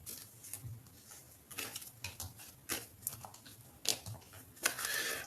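Tarot cards being cut and shuffled by hand, a soft irregular series of papery flicks and riffles with a few sharper snaps, quiet and close with no talking.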